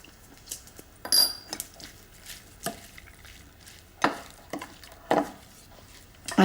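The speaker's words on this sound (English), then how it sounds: "Have a bit of a stir round." A spoon stirs finely chopped ceviche with greenery in a bowl, giving scattered soft clinks and wet scraping knocks at uneven intervals, close and fairly quiet, with no talk.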